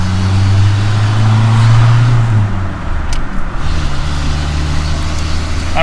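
A car engine drones low and steady while the car accelerates sluggishly, as if the parking brake were dragging. The hum is loud and close, with its pitch shifting partway through, and no one speaks.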